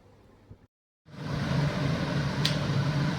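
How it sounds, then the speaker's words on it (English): A kitchen extractor fan over a cooking pan switches on after a brief silence and runs as a steady, close broadband whoosh with a faint hum, alone. "You can hear I've got the extractor fan on"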